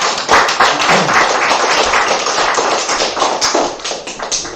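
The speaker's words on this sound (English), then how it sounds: "Let's give him a round of applause." A lecture audience bursts into dense, sustained applause after a talk on art and spirituality, many hands clapping steadily and loudly throughout without voices.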